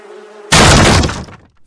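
Cartoon bees swarming out of a bee's nest make a sudden loud, dense burst of buzzing noise lasting under a second after a quiet tone, then cut off sharply.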